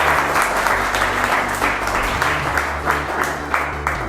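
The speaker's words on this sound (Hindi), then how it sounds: "ऑडियंस के लिए एक बार और जोरदार तालियां।" Audience of class 7 students at a school quiz show breaks into loud, sustained applause, steady clapping from a packed room with a low hum beneath, continuing without pause.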